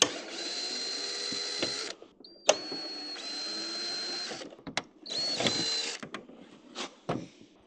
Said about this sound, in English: we're going to be removing a bunch of these little torque screws